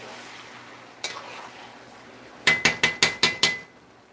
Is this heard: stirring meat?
yes